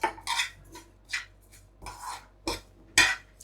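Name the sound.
dry roasting fennel seeds and jaggery in a pan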